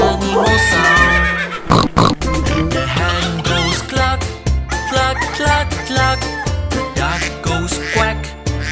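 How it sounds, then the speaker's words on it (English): A horse neighs and whinnies in a children's animal-sounds song, with several loud whinnies over a busy musical backing. "The horse goes neigh, neigh, neigh, neigh."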